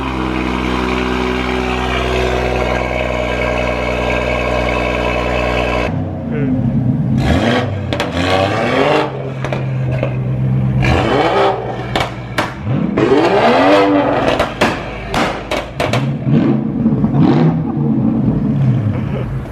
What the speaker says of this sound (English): B58 sounds so good